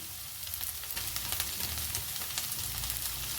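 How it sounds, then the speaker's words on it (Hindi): Ginger paste and green chillies fry in a hot pan with a dense, close sizzle and crackle, flecked with spitting pops and stirring noises, steady throughout. "दोनों चीज़ों को हम 1 मिनट के लिए फ्राई करेंगे अच्छे से"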